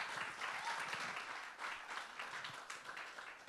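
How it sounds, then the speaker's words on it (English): Theatre audience at a live Edinburgh Festival comedy show applauding a comedian, a dense, steady wash of many hands clapping for several seconds without a break. "can you please give a round of applause for our last guest"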